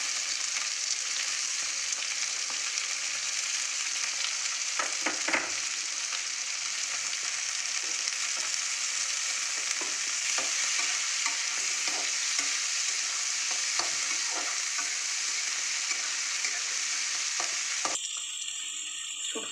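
Potatoes and onions fry loudly in a pan for a Bengali dried-fish curry, a steady dense sizzle broken by repeated scraping stirs, close and continuous with no talking.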